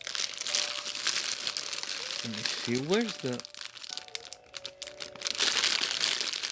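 Thin plastic bags from a Temu order crinkle and rustle as they are handled and opened, bursts of crackling texture under a person's speech.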